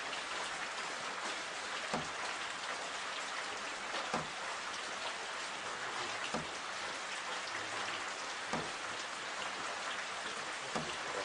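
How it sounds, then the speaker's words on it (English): Steady rain falls across an African game reserve before a morning safari drive, a dense even patter with occasional louder drops striking nearby surfaces, no voices. "as soon as this rain does subside"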